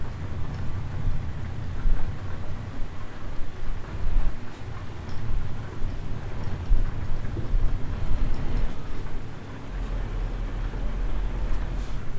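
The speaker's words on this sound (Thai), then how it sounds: "หาเรื่องกันแล้ว ฝนมาอีกแล้ว" Rain and thunder in the Euro Truck Simulator 2 driving game, on a Scandinavia route near Kalmar. A steady hiss of rainfall runs throughout with low rumbling underneath, loud and continuous, with no talking.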